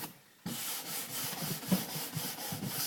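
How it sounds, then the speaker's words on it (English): Stiff brush strokes scrubbing excess wax off a ski base follow a brief silence, as a rhythmic, fairly soft back-and-forth rasp repeats about twice a second. "getting rid of all the excess wax, brushing it until it's incredibly smooth"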